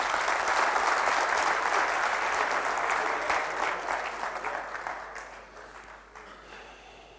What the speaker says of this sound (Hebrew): סיבוב נוסף של מחיאות כפיים סוערות